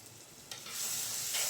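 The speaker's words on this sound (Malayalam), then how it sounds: "അങ്ങനെ ഇച്ചിരി മഞ്ഞൾ പൊടി ഇട്ട് കൊടുത്ത്, അതിന് മുളക് പൊടി 2 ടേബിൾ സ്പൂൺ മുളക് പൊടി ഇട്ട് കൊടുക്കുന്നുണ്ട്." Turmeric and chili powder fry in hot oil in a pan while being stirred, quiet at first, then a hissing sizzle that swells and holds.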